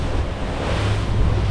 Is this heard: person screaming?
no